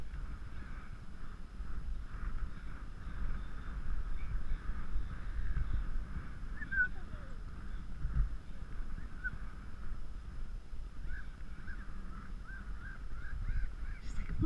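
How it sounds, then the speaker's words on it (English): Faint honking bird calls repeat irregularly at a distance over a low, steady wash of outdoor noise at a beach. "What are those noisy birds, Mummy?"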